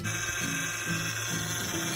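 A car's power steering makes a steady mechanical whine with a low groaning hum that pulses in a slow, regular rhythm, loud and close, with no talking.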